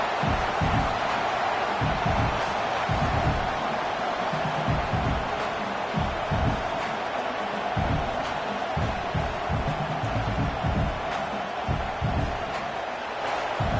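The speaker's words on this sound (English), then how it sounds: "And here comes the noise. This crowd is trying to inspire this defense to make a big red zone stop." A football stadium crowd roars steadily during a red zone defensive stand, a dense continuous wash of voices with low rumbling swells and occasional sharp thumps throughout.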